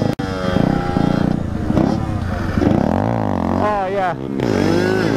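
A 50cc or 125cc motorcycle revs hard while popping a wheelie, loud rising and falling engine whine close by, with excited shouting over it.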